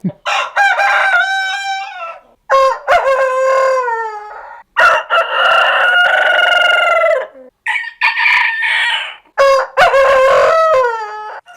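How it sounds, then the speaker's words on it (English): Several cockerels crow in the early morning, long harmonic calls repeating one after another at close range with brief pauses between, loud and with no other sound. "the cockerels started at 3 in the morning"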